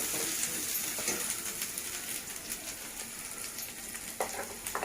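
Chole masala gravy of tomato, onion, almond, cashew and dry coconut paste sizzles in a pan over medium heat, a steady close hiss and crackle running throughout with scattered brighter pops and no talking.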